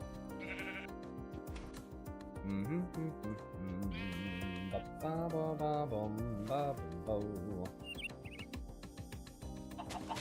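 Bighorn sheep in the modded Minecraft pack GregTech New Horizons bleat several times at close range, the wavering calls rising over a steady bed of game music and ambient sound.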